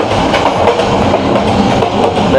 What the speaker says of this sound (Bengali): এখন ট্রেনে হাঁটতেছি